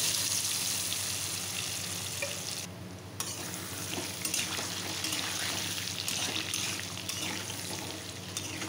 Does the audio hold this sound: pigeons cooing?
no